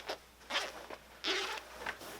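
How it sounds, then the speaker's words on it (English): An invisible zipper, sewn beside welt cord, is pulled apart in several short, close rasping bursts separated by brief pauses, with no one talking. "you can separate this zipper"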